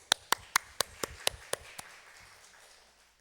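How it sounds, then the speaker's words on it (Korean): Sharp handclaps ring out in a church service, about eight distinct claps that slow and fade before trailing into quiet. "박수."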